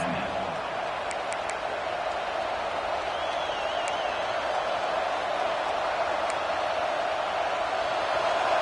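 A packed college football stadium crowd roars steadily for its defense in Miami, a dense, unbroken wall of noise with a few sharp whistles and a voice faintly underneath.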